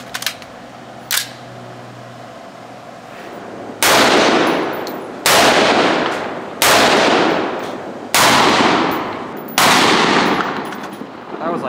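Five loud, sharp gunshots from a 5.56 Honey Badger rifle being function tested with assorted ammunition, spaced roughly a second and a half apart, each with a short decaying tail, after a couple of faint clicks at the start.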